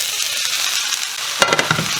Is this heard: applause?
no